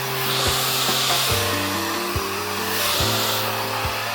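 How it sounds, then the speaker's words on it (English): A hair dryer fitted with a diffuser hovers over damp curly hair, giving a steady close airflow whoosh with a low motor hum and faint rubbing shifts throughout. "so I'm gonna hover diffuse for another minute"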